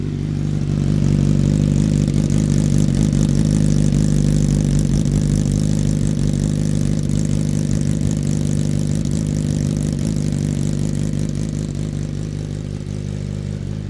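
A motorcycle engine runs close up at a loud, steady idle with a deep rumbling throb, no voices over it.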